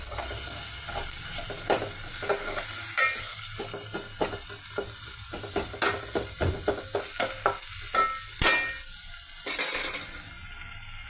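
Tomato curry masala of tomatoes, onion, ginger paste, green chillies, spices and cocoa powder sizzles in oil in a pan, with steady frying hiss and repeated scraping, clinking stirring strokes close up, no talk.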